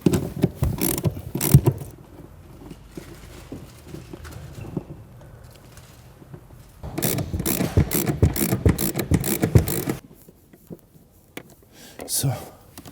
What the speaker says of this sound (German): Dann die hinteren 2 Schrauben lösen.